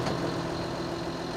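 A tractor engine idling at a machinery lineup makes a steady, low, even rumble that stays close and holds constant throughout.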